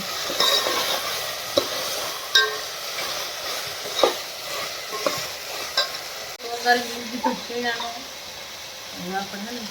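A spatula stirs gram flour into long bean curry as it sizzles and fries in a pan, with scraping strokes at irregular intervals over a steady sizzle while a person talks nearby.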